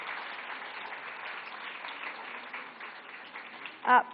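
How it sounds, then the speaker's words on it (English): An audience at a stage event applauds a guest, a fairly muffled, steady patter of clapping that ends in a short louder burst. "A big round of applause for Bibi Sandeep Kaur"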